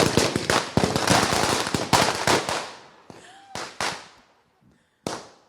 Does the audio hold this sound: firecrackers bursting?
yes